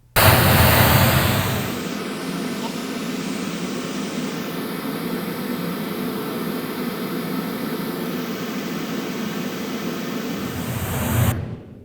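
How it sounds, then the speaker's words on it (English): Steady pink-noise test signal plays through a JBL PRX One powered column speaker, a loud, even broadband hiss that runs for about ten seconds and then cuts off. "and then we're going to play some pink noise."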